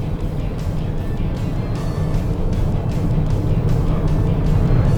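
A 2021 Ford Bronco Sport driving on a road gives a continuous broadband engine and road roar from inside the cabin, steady and fairly loud and rising slightly toward the end.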